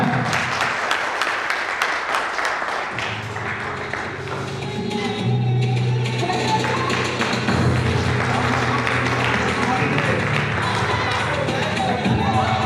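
Loud, sustained applause from an audience at an anniversary event welcomes a guest from Hoshiarpur, Punjab, with dense clapping and crowd noise throughout and a low hum and some voices mixed in.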